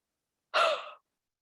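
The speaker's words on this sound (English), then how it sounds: "Maybe do like two more breaths, two more exhales." A single breathy exhale during a guided mindful movement exercise, short and soft, close to the listener in an otherwise silent room.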